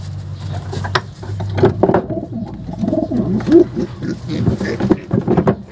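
Racing pigeons cooing close by in soft, repeated throaty calls at a pigeon race pooling, with a faint murmur of people and background noise.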